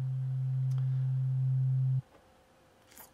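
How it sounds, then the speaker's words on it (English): A pure, steady synthesized sine tone hums low and clean for about two seconds, then cuts off abruptly, leaving faint background noise. "A sine wave feels a little quieter because it does not have a lot of overtones."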